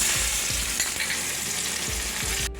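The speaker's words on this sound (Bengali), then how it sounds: "এবার দিচ্ছি অল্প একটু পেঁয়াজ কুচি" Chopped onion fries in leftover katla fish oil with a loud, continuous sizzle, a few soft spatula scrapes and taps against the pan, and the hiss cutting off abruptly at the end.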